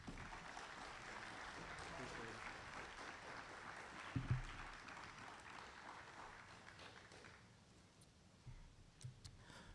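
An audience at a Wabash College chapel gathering applauds to welcome speaker Anthony Douglas II. The steady, moderately loud clapping fades out toward the end, and faint voices can be heard.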